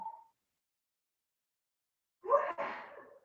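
A single abrupt sneeze bursts out after a long stretch of near silence, fairly close and loud, trailing off in a breathy tail.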